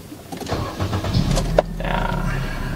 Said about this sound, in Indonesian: Tapi saat mobil dinyalakan,